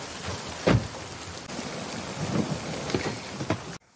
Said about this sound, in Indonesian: Dikarenakan keadaan hujan yang sangat deras